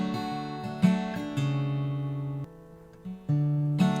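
Acoustic guitar fingerpicking through a chord change in a folk pattern, played softly up close: plucked bass notes and ringing strings with a clear shift midway, alone without speech.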